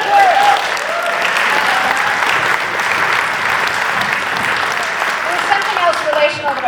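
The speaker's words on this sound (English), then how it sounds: "Another round of applause!" Keynote audience at a Winnipeg 1919 general strike memorial event gives dancers and a chorus a sustained round of loud applause, with cheers and whoops rising briefly over the clapping.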